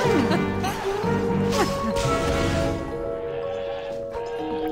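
Cartoonish goat bleats from the Plants vs. Zombies Heroes card game, wavering cries over busy game music and effects, loud and close throughout.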